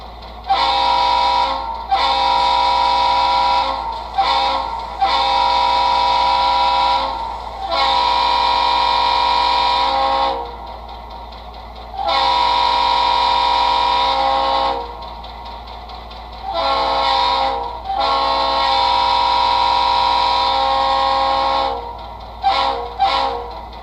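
An HO model locomotive sound decoder plays through a small iPhone speaker, giving a series of loud, sustained train horn blasts of varying length separated by short pauses, over a constant low engine hum.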